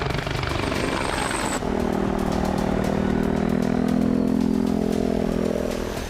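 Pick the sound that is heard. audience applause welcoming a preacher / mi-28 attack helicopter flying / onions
mi-28 attack helicopter flying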